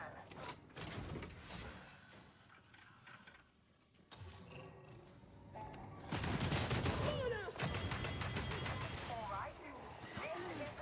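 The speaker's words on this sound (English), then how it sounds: "Oh, Zapod is using a gun." Video game gunfire in Warhammer 40k Darktide crackles in scattered bursts at first, then becomes a dense, loud fusillade in the second half. Mechanical clatter and speech come through alongside it.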